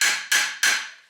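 Three sharp metallic hammer strikes in steady succession, driving a crown race onto a Niner RKT 9 RDO bike fork, each ringing briefly before the next blow, close and loud.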